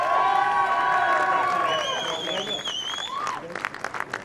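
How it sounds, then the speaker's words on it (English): A crowd at the Men's Boat Race cheers and applauds for coach Sean Bowden, a loud burst of whoops and clapping near at hand that gradually thins into scattered claps. "A big cheer for Sean Bowden"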